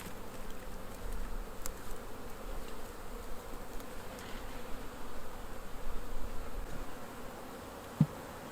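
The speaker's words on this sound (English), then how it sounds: "So there's still a few bees hanging around on the package" Honey bees from a bee package buzz at the hive entrance, a faint, steady droning hum with a few individual bees passing close by.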